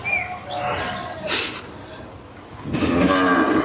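A pregnant cow moos twice, close by, with a short pause between the calls and a bird chirping faintly in the background.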